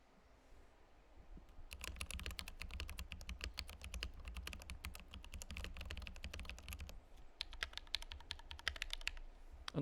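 Mechanical keyboards fitted with Kiwi switches are typed on in a steady, rapid stream of crisp clacks and clicks, close and clear with no talking.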